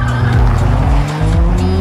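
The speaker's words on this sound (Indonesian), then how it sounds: "Faraday melarikan diri dengan sebuah mobil biru, sementara Roxanne merebut mobil orange untuk mengejarnya." Cars speed and skid through a chase in The Union (2024), a blue car fleeing and an orange car pursuing. Loud engine roar and tire squeals fill the scene before the sound cuts off abruptly.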